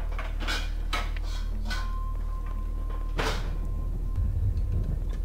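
Metallic clanks and rattles of a pot being kicked in the video game Garry's Mod, several sharp ringing hits spaced irregularly over a steady low hum.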